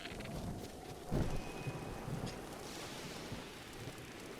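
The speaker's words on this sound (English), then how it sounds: "Oh, it's raining." Steady rain falls across the open landscape of Zelda: Breath of the Wild, a constant broadband hiss with a brief louder gust or splash partway through and no talking.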